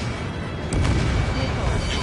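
A single heavy missile blast from an air combat game hits sharply about midway and rolls off into a loud, rumbling decay over a constant din of engine and battle noise.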